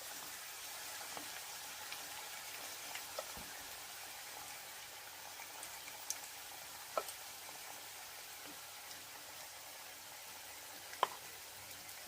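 Masala and chicken frying over low heat in a pan make a faint, even sizzle with scattered soft pops and ticks throughout.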